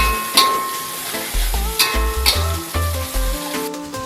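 Dried shrimp stir-frying in a home-kitchen pan, a steady loud sizzle with repeated scraping and clattering of the stirring utensil throughout.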